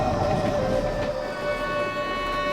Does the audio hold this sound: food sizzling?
no